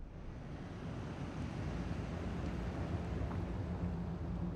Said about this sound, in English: There is kind of a weird wind sound surrounding the shell.